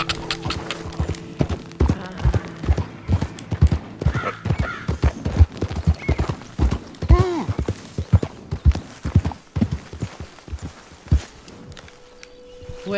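Horse hooves clip-clop in a steady walking rhythm in Red Dead Redemption 2, close and clear, slowing and fading toward the end with a brief low tone.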